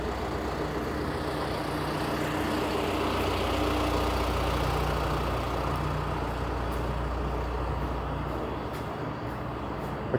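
A truck idles steadily in a narrow downtown Toronto laneway by a construction site, a constant low engine rumble nearby with faint city background and a few light knocks toward the end.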